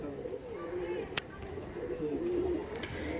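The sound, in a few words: Malbai pigeons cooing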